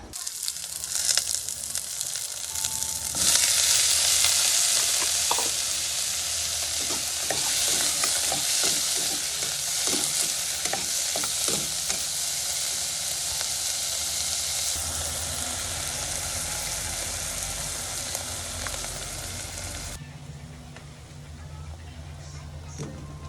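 Pancit cooks in a pan with loud, continuous frying sizzle and hiss while a utensil stirs and scrapes in short clattering bursts, before the sizzle dulls and softens toward the end.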